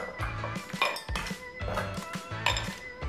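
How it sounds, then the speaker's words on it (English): Cocktail ice goes straight into a serving glass behind a bar, with a series of bright clinks and clatters as the cubes strike the glass and each other in several separate bursts. "So I will put cocktail ice right in."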